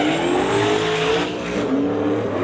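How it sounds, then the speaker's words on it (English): Two turbocharged drag cars sit at the start line of a drag racing event, engines roaring loudly with rising turbo whine as the boost builds, close and sustained without pause. "You can hear the boost building at both as they bump it in"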